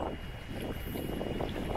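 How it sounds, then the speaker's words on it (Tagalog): Strong wind at the Panguil Bay Bridge buffets the microphone with a steady low rumble and roar, loud and unbroken for the whole moment. "dahil sa tindi ng hangin"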